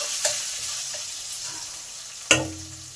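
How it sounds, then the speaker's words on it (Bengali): Washed biuli dal and chana dal fry softly in a pan with a low, steady sizzle, broken by a couple of sharp stirring scrapes and clinks. "এবার এগুলোকে ভালো করে একটু ভেজে নেব।"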